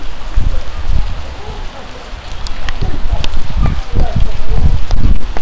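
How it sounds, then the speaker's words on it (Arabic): Steady rain falls outdoors in Bir Jdid, Morocco, a broad continuous wash with patters and drips, while a person talks intermittently over it. "هيا هيا كتعجبك الشتا؟"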